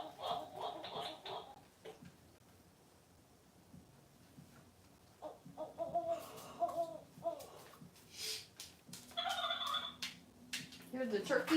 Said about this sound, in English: Here's the turkeys.